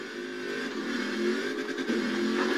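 Car engine in Forza Horizon 4, steady and loud, droning continuously with a slight rising rev as the car drifts uphill, no talk over it.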